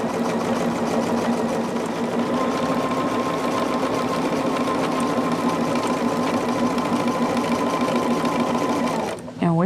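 Sewing machine stitching the top and bottom sashings of a quilt, running steadily and loudly at close range with an even whirring rhythm for nearly ten seconds before stopping abruptly.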